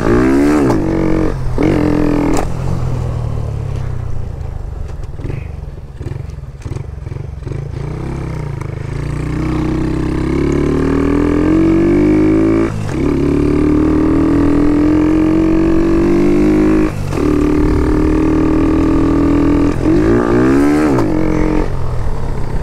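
A Shineray motorcycle engine revs continuously and loudly up close, rising and falling in pitch, with irregular stumbles and dips where it misfires.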